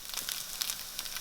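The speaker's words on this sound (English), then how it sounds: "I would spend most of my time on pan frying the tofu" Tofu pan-frying in oil gives a soft, steady sizzle with faint crackling pops, quiet and close, heard alone without talk.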